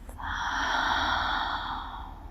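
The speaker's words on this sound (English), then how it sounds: "Taking a deep inhale through your nose. And exhale from your mouth." One long, deep breath drawn in through the nose and let out through the mouth during a calm yin yoga session, a soft breathy hiss sustained for about two seconds, close and clear.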